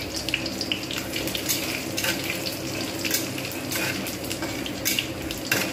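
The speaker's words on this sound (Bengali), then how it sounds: "এতে যে তেলটা রয়েছে এর মধ্যে গোটা জিরে 5 ফোড়ন আর শুকনো লঙ্কা আমি ফোড়ন দিয়ে দিলাম" Whole cumin, five-spice seeds and dry red chillies sizzle in hot oil, a close continuous crackling hiss with small sharp pops scattered through, no voices.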